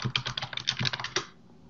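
Rapid typing on a computer keyboard while entering a measure name in Power BI, a quick close run of about a dozen clicky keystrokes over a second and a half, then quiet.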